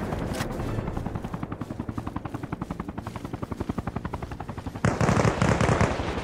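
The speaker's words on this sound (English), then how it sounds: "Helicopter crew is taking heavy fire." Heavy automatic gunfire in the Arma Reforger video game during a Vietnam War helicopter scene, rapid steady bursts rattling over a constant rotor thrum, with a louder harsher burst near the end.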